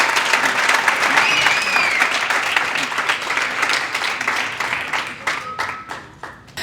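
Steady applause from an audience at a community engagement awards ceremony, dense clapping sustained throughout and thinning slightly toward the end.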